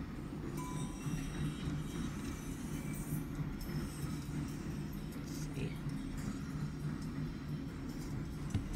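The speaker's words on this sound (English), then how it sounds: "Sorry about the trains in the background." Trains rolling along nearby tracks make a continuous rumble with wheel squeal and clatter, steady and moderately distant, with faint voices underneath.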